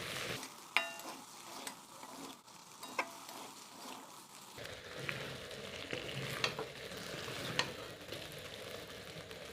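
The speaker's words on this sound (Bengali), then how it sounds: "মশলাটা একটু মিশিয়ে নেব।" Boiled potatoes are stirred with spices in a frying pan for a Bengali egg-and-potato poppy-seed dish, a steady sizzle under soft scraping and occasional sharp utensil clicks, close and moderately loud, with no talking.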